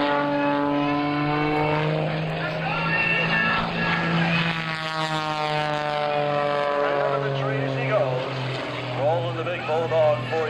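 Aerobatic airplane with a 400 hp Lycoming engine during an airshow routine: a loud propeller engine roar whose pitch rises and falls as it manoeuvres, with a voice talking over it throughout.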